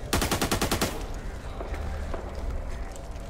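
Rapid automatic gunfire in the co-op shooter game Back 4 Blood, a fast close rattle of shots for about a second, then scattered distant shots and rumbling battle noise.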